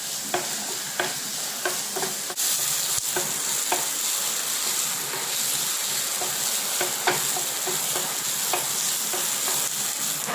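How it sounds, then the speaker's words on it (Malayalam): Sliced onions with salt sizzle steadily in a hot pan for a prawn roast, with a continuous frying hiss broken by a few sharp clinks of a spoon stirring against the pan. "ഇനി നമുക്ക് നന്നായിട്ട് ഒന്ന് വഴറ്റിയെടുക്കാം."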